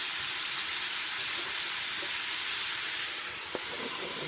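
Bacon fries in a pan as onion goes in, a loud, constant sizzling hiss with a faint stir and a single light knock near the end, heard alone without talking.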